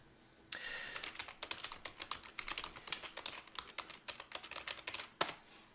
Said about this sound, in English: So if we type in just a general search term